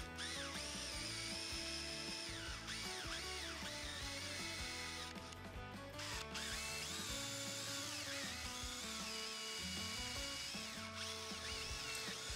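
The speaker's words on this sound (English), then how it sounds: "I'm just going to drill it out and expand that 1/8 inch hole to a 3/8 inch hole." A power drill widens a 1/8 inch hole to 3/8 inch in a wooden chair leg, a continuous loud whirring grind whose pitch rises and falls as the bit cuts, with no voices.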